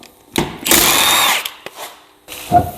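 A power tool used to remove a wheel from a Wildcat side-by-side fires in short bursts, one sustained buzz of about a second followed by quick brief hits, close and loud.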